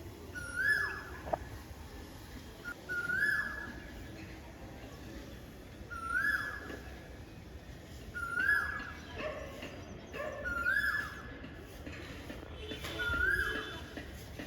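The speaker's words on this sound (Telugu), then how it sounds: "అండ్ ఆ బర్డ్స్ శబ్దం కూడా నాకు చాలా ఇష్టము" Birds call outdoors, a short rising and falling call repeated about every two seconds at moderate distance, with faint background ambience.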